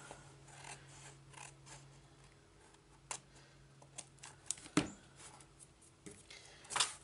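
Scissors trim a small paper overhang flush against chipboard while a lap book or mini album is assembled: faint, quiet snips and rubbing scrapes, with a sharper cut near the middle and another near the end.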